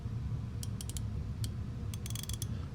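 A Craftsman V-Series ratchet clicks in short, quick bursts of sharp metallic ticks, close and fairly quiet, with a few scattered single clicks before a rapid run near the end, over a low background hum.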